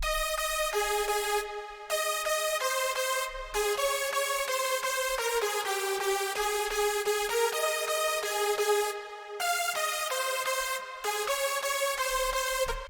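Lead Progression, a single-layer synth lead preset, plays a loud, bright progressive house melody of held notes that rise and fall. A few short pauses separate the phrases, and a faint low pulse sits beneath.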